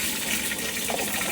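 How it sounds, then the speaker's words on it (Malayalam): Mustard seeds dropped into hot palm oil, giving a steady, loud, close crackling hiss that runs without a break. "കുറച്ച് കടുക് ഇട്ട് കൊടുക്കാം."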